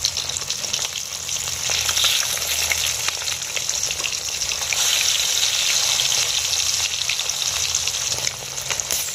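Turned rohu fish pieces frying in deep hot mustard oil give a loud, steady, close crackling sizzle that swells and eases slightly without stopping.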